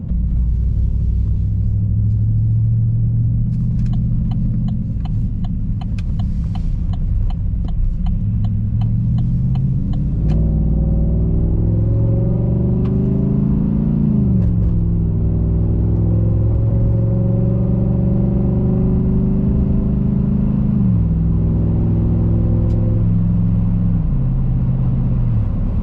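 A 2021 Chevrolet Silverado Custom Trail Boss truck engine fitted with a K&N air filter and running with no muffler drones loudly and steadily throughout, with rising and falling revs and a deep, close rumble.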